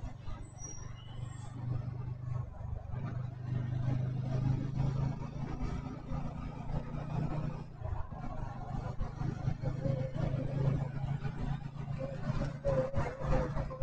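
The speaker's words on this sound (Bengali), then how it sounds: "হ্যাঁ, আমাদের হান্টার বেরিয়ে যাচ্ছে, রকেটের মতো বেগে বেরিয়ে গেল।" A Hunter motorcycle pulls away on a night ride with a steady, loud engine drone and rising revs as it speeds off, wind and road rumble underneath.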